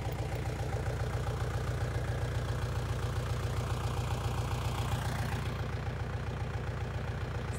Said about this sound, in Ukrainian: Трактор Ловол, 4 циліндри, 4 колеса, одна кабіна.